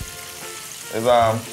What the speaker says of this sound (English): Our fish over here frying down, of course. Just some Bahamian snapper.